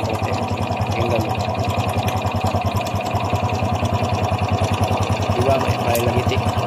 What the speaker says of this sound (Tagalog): ang unang tunog hindi pa natin napalitan ng bagong timing chain.